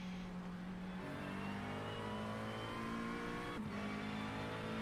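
A GT3 race car at Spa in a sim racing series revving hard through the gears, a continuous loud engine whine climbing in pitch with two quick upshifts, heard alone at steady volume.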